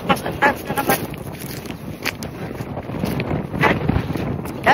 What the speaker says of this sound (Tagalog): Grabe hangin dito.